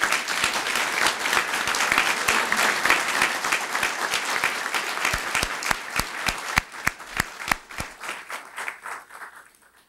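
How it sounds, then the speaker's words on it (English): A crowd at a hospital planning press conference applauds Mayor Craig Moe, dense clapping that thins into scattered individual claps and fades out. "Can we give him a round of applause?"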